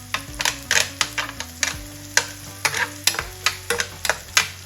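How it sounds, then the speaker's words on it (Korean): Thin-sliced pork belly and green onions stir-fry in a pan with a low sizzle, while a spatula clacks and scrapes in a quick, irregular rhythm of sharp strokes close by. "한참 볶아주세요."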